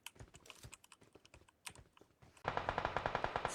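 Rapid gunfire in the mobile battle-royale game PUBG Mobile, a dense string of sharp cracks that turns into a louder, steady automatic burst near the end, with no talk.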